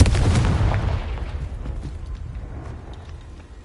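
Confringo explosion spell cast in Hogwarts Legacy, a single loud, close, booming blast that rolls away into a fading rumble over a few seconds, with no talk.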